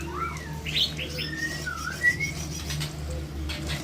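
Female white-rumped shama (murai batu) in an aviary with her chicks, giving clear whistled chirps and swooping notes nearby over a low steady background hum.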